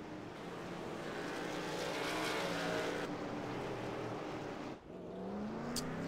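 Racing truck engines in an iRacing truck series race at Phoenix, a continuous loud mechanical drone that shifts pitch, with a brief dip before the tone rises again.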